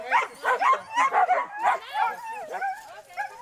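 Husky dogs bark and yip in quick repeated bursts close by, their high, excited calls tumbling over one another with a few whimpers near the end.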